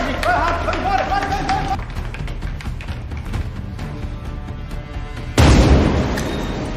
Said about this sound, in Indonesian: Setelah berhasil meledakkan beberapa ruangan